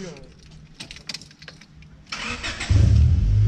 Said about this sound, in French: bruit typique de la Honda que tu démarres